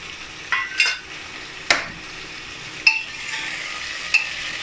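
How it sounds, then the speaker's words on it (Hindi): Potatoes fry in oil for a katahal aloo dish with a steady, soft sizzle, broken by a few sharp spatula clinks and stirring scrapes against the pan. "अब देखिए, इसी तेल में मैं इसको आलू को फ्राई करूँगी"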